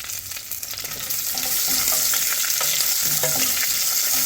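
Onions and green chillies hit hot oil for tomato chutney, and the hiss swells into a loud, dense, steady sizzle that fills the pan.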